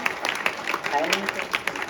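Short burst of school audience applause for a teacher at a World Earth Day event, quick scattered clapping under a speaking voice.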